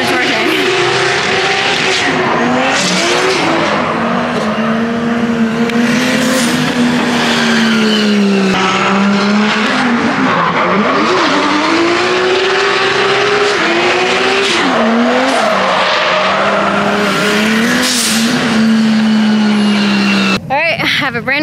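A C6 Corvette drifts on a banked track on fresh Valino tires. The engine wails loudly and climbs and falls through revs, with rising and falling tire squeal running continuously throughout.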